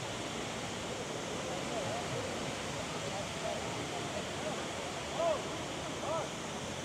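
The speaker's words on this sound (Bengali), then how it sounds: "আর্টিফিশিয়াল ঝর্ণা।" An artificial waterfall fountain beside a road at Khor Fakkan beach gives a steady, broadband rush of falling water that fills the whole clip, with faint voices and street sounds in the background.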